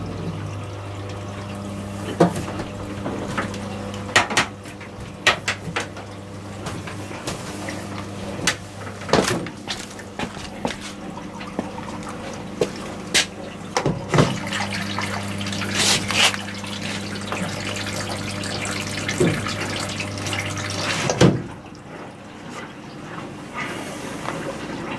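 A washing machine fills with water, a steady low mechanical hum with broad hissy flow and scattered clicks and knocks running for about twenty seconds, then cutting off near the end; no one speaks.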